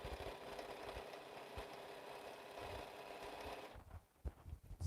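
Sewing machine running steadily while stitching straight seams on a quilt, a faint, continuous mechanical whir for about four seconds that then stops, leaving a few soft handling sounds.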